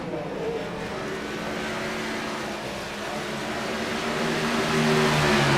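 Race cars lap a track in an NHMRL event, their engines droning and revving steadily at a moderate distance, building slightly louder toward the end with no talk.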